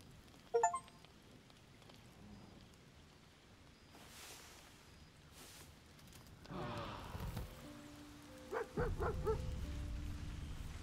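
Dog in the video game Baldur's Gate 3, giving faint yips and whimpering calls amid quiet game ambience, with a few louder bursts of sound toward the end.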